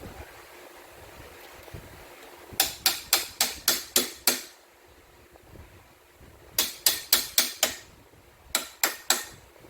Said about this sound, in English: What I had to use is a regular hammer like this, not my dead blow.